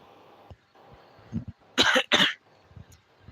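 A person with a medical condition gives two loud, harsh coughs close to the microphone, with softer throat sounds and breathing before and after.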